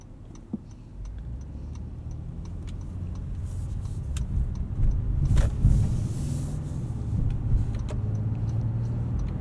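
A 2019 Honda Passport Elite AWD SUV in sport mode drives a back road, its engine and road noise forming a steady low rumble that swells midway, with faint ticks throughout and no talk.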